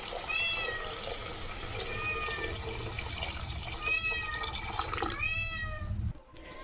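Cats meow repeatedly while waiting for chicken in a kitchen, several drawn-out mewing calls spaced across the stretch over a steady background hiss of running water.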